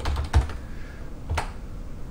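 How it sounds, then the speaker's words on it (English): Typing on a computer keyboard while entering a product search in the Magento admin, with a few close, crisp clusters of keystrokes separated by pauses over steady quiet background. "All you have to do is start typing,"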